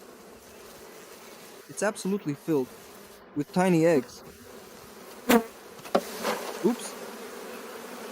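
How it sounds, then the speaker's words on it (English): A swarm of honeybees buzzes steadily on a hive frame close by, a dense continuous hum running under a woman's brief speech. "I literally just caught a swarm, and it's already swarming."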